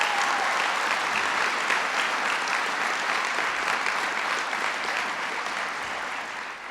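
An audience at a public event on making higher education more affordable applauds. The clapping is dense and sustained, holds steady and fades slightly toward the end.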